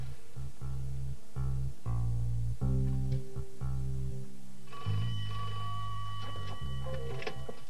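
A telephone in a household rings in repeated short bursts with brief pauses between them, fairly close and clear, with no talking.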